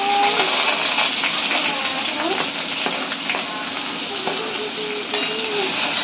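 Dried fish with onion and chili frying in a pan and being stirred, a busy sizzle with scraping and clinks of a utensil against the pan, close and fairly loud.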